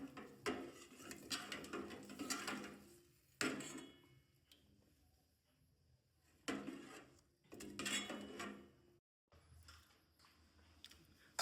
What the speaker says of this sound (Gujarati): ત્યારબાદ આપણે સારી રીતે મિક્સ કરી દઈશું.